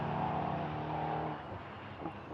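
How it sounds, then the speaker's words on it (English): LMP3 prototype race cars on a circuit give a steady, fairly loud engine drone with sustained harmonic tones that ease slightly partway through, with no talking. "Dean Gibbs loses out, and that promotes the number 72 Douglas Motorsport car in the hands of Mike Newbold up through the order at this stage"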